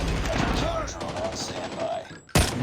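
Sniper rifle fire in Call of Duty: a single sharp, loud crack near the end after a stretch of quieter game sounds, with someone talking over the earlier part.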